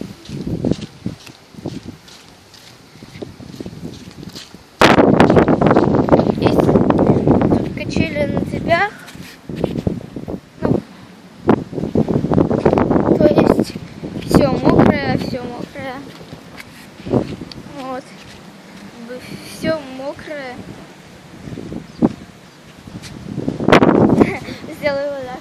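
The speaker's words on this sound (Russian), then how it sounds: "Ветер очень сильный." Strong wind during a storm on the Fedotova Spit near Kirillovka buffets the microphone in loud gusts throughout, with a person talking over the roar at times.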